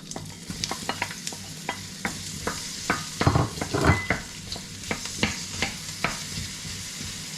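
Onion, garlic and ginger sauté together in a preheated pan (kawali), giving a steady sizzle broken by frequent close scrapes and clicks of stirring, with a denser burst of frying noise midway and no talking.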